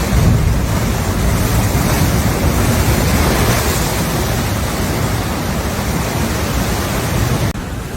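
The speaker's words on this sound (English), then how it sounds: "Videos from multiple locations along the California shoreline show towering waves smashing into cliffs" Large ocean waves pound the coastal cliffs of the California shoreline, a loud, unbroken roar of surf and churning water that fills the whole stretch with dense, rushing noise.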